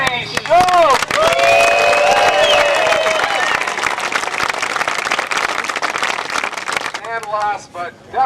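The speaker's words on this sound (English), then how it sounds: "Big round of applause from Sheboygan, Barry Schultz." Crowd applause for disc golfer Barry Schultz at the 2000 PDGA Pro-Am World Disc Golf Championships, a loud burst of clapping with some cheering that fades toward the end, with speech heard over it.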